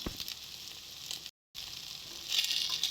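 Ginger paste frying in a pan for a prawn and taro dish, a steady bright sizzle with a brief silent cut partway through, the hiss swelling slightly louder toward the end.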